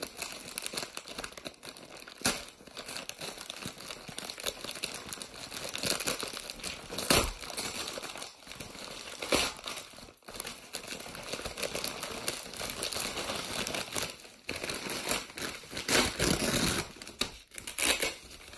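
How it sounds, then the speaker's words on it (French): A parcel wrapped in tape and bubble wrap is unwrapped by hand, with close, irregular bursts of crinkling, tearing and rustling plastic and paper, louder peaks scattered among quieter handling. "Il y a encore du scotch, du papier à bulles."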